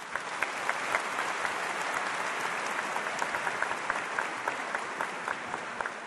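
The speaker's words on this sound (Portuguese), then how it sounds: "Aplauda essa pessoa que saiu do seu lado." A church congregation claps together during a homily, steady dense applause filling the room for several seconds, close and loud with no talk over it.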